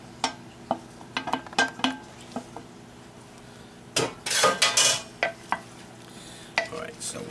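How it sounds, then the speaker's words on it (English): Shrimp and garlic stirred around a pan for a scampi-style dish, giving scattered clinks and scrapes of utensil on cookware, with a louder run of stirring clatter midway over a faint background sizzle. "Mix that all around. Shrimp go in here with the garlic"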